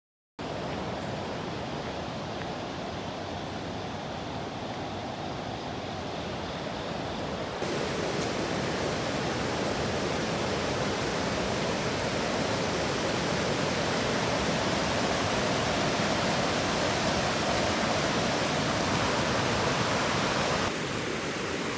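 A river flows across and over a trail, producing a dense, constant roar of rushing water up close, growing slightly louder partway through and holding steady without any voices.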